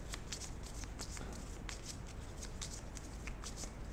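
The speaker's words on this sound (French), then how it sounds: "Je remélange les cartes." Playing cards for the Heroes cartographer board game are shuffled by hand, giving repeated quick riffling flutters in a steady rhythm, faint and close with no talking.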